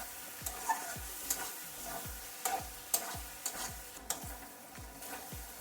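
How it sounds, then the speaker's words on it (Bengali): Spices with ground cumin frying in a pan for an egg curry, a quiet sizzle punctuated by repeated light taps and scrapes of a spoon against the pan at an uneven rhythm, with no speech. "তো জিরা গুঁড়িটা দিয়ে আর একটু কষিয়ে নেব।"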